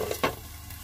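Potatoes frying in a pan for a simple potato fry: a brief close scrape of stirring over a soft steady sizzle, with one louder stroke partway through.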